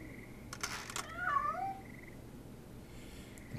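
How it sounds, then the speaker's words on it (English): A cartoon cat in the video game Penny Arcade Adventures: On the Rain-Slick Precipice of Darkness gives a short, rising and falling meow, clear but modest in level over a quiet game background. "Simply click on this cat to communicate with it."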